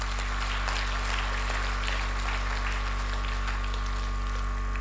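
An audience claps at a gathering, a faint, thin spatter of applause almost buried under a loud, constant electrical hum.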